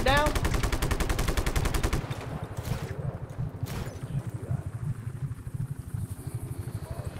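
Rapid automatic gunfire rattles loudly for about two seconds in the video game Just Cause 3, then gives way to a heavy rumbling drone with a couple of fainter bursts.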